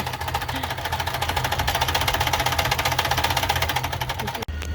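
A sewing machine stitches straps for a sail repair aboard a boat, its steady rapid mechanical chatter running close and loud over a low engine-like drone, cutting off abruptly near the end.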